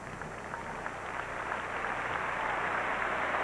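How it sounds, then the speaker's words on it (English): Football stadium crowd at a 1996 Oklahoma State Cowboys home game applauding, a broad steady wash of clapping that swells gradually and fills the clip without any talk. "And a nice hand from the Cowboy crowd."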